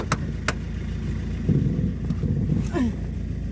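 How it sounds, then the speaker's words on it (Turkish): Car engine labouring at low revs while pulling away on a slope, a steady mid-low drone with brief surges and a couple of sharp knocks, plus faint background voices. "Bak Lan ikiyle kalkmıyor araba rampada."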